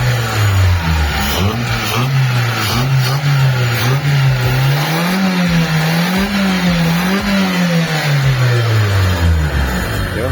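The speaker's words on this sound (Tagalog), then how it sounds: "sumaandar na yung makina natin" A Mitsubishi Lancer's 4G13 carbureted engine runs loudly up close, its pitch rising and falling as it revs up and settles back down repeatedly.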